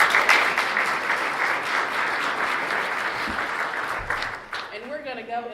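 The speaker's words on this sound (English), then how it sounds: "Give him a round of applause," Audience applause at a community State of the Community address, steady and full for about five seconds before thinning out near the end as a voice begins to emerge.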